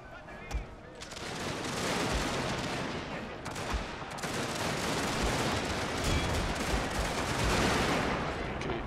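Massed musket fire in the video game Scramble for the Far East, a dense, continuous crackling fusillade with scattered sharper shots, steady and fairly loud throughout.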